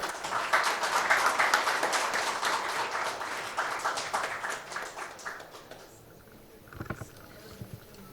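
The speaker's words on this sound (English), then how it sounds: "Applause, ladies and gentlemen." An audience applauds at a formal ceremony for a book launch and special cover release, a dense wash of clapping that gradually fades out, followed by a few scattered claps and quiet room sound.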